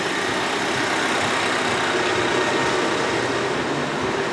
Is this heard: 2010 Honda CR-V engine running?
yes